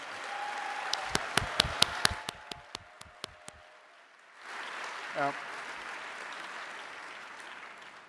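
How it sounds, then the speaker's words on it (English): A benefit gala audience gives a brief round of applause, a few sharp, distinct nearby claps that thin out and fade, followed by a soft, distant crowd murmur with a short voice. "Let's give them all one more round of applause."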